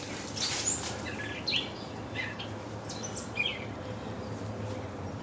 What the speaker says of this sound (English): People talk about my birds they hear in my videos.